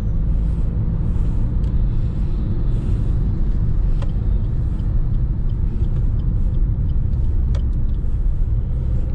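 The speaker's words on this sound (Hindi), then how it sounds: "शेर की तरह दहाड़ता हुआ इंजन" Maruti Suzuki car with a punchy turbocharged engine, heard from the cabin while cruising at about 60 km/h: a loud, continuous engine and road rumble that stays steady throughout.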